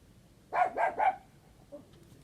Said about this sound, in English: I got a terrier running around and she's wanting to bark.